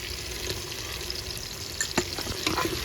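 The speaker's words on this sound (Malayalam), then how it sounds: "പച്ചപ്പൊക്കെ ഒന്ന് മാറുന്നിടം വരെ നമുക്ക് ഇവനെ ഒന്ന് ഇളക്കി കൊടുക്കാം" A chicken madhout mixture stirred in a pan, with a soft steady sizzle and scattered scraping clicks of the spoon against the pan, close and moderately loud, with no talking.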